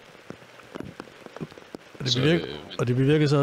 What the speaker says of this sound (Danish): På vej op til Thisted begyndte det at regne